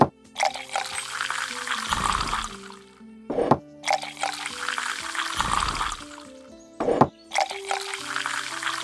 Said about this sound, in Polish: Piwka musimy nalać